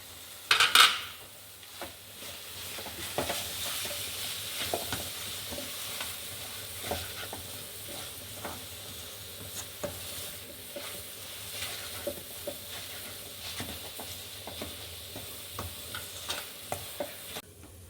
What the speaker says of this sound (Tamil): திறந்து இதை நல்லா கிண்டி விடுவோம் இன்னொரு தரம்